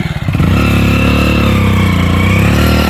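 A motorcycle stuck in the ground revs hard, its engine holding a loud, steady high-pitched roar close to the microphone after a brief sputtering start.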